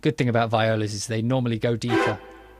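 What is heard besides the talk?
No everyday noises stand out.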